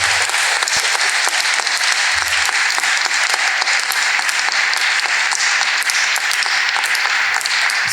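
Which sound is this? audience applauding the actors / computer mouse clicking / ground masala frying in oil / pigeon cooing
audience applauding the actors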